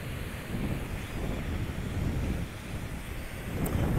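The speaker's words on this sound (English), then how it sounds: "Hopefully it's not too windy for the video." Steady wind buffeting a covered microphone at Hollywood Beach, Florida, a continuous low roar with faint surf-like wash underneath, swelling slightly in gusts over a few seconds.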